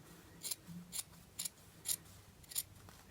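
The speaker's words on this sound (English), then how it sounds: "trim them both by a certain amount, say about 5mm, and then just trim off a bit more" Scissors trimming fabric seam allowance at a waistband, five or six crisp snips at a steady pace, close and clear in a quiet room.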